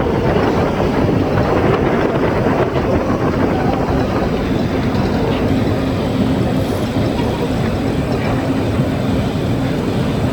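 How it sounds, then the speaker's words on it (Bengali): A passenger launch passes on a river at night, heard from aboard another launch as a loud, continuous engine-and-water roar with wind buffeting the microphone throughout. "একটি লঞ্চ যাচ্ছে"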